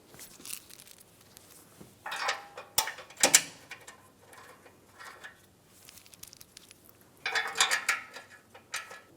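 Bolts being fitted and run in on the bumper impact absorber of a 2013-2017 Honda Accord, with clicky ratcheting and metallic mechanism sounds in several short close bursts separated by quieter handling noise.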